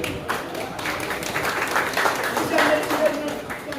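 Crowd applause at a program event, a moderately dense clapping texture with a voice talking over part of it.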